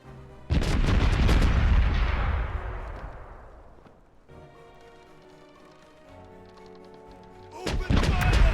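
Ship cannons fire broadsides in a pirate video game: a loud booming volley rolls and fades over several seconds, quieter battle noise follows, and a second heavy burst of cannon fire erupts at the end.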